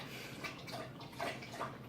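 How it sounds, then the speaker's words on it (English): A Labrador dog laps water from a bowl, quiet wet slurps and splashes repeating in uneven bursts close by in a calm room. "That's my dog drinking water."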